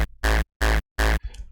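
Three loud, distorted electronic kick drum tail hits sound in quick even succession, each a dense sustained burst, followed by a brief fainter noisy tail.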